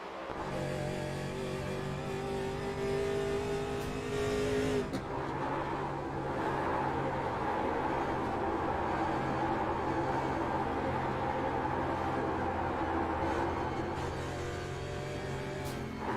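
Onboard engine of a race car in an NSRA oval race at Dover, a steady loud drone with shifting pitch, a sudden cut and drop in tone midway, then the engine pulling again.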